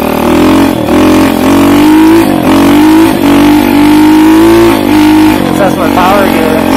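A Honda SL70 motorcycle fitted with a 125 engine revs hard while riding through snow, its loud buzzing note rising and dipping in repeated surges close up, with a voice speaking over it.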